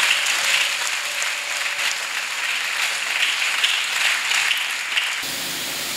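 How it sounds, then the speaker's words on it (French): A church congregation applauds for Jesus Christ. Dense, continuous clapping from a large crowd fills the room at steady volume before cutting off abruptly near the end. "Acclamons pour Jésus-Christ."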